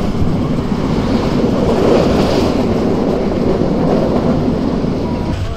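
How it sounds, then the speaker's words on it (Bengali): A train pulls into Noapara railway station in Bangladesh, its steady loud rumble and rolling wagon noise heard up close from inside a carriage, with no voices. "ট্রেন ঢুকতেছে নোয়াপাড়া রেলওয়ে স্টেশন।"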